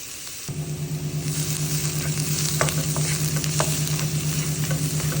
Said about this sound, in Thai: หอมแดงกับกระเทียม ใส่ลงไปผัด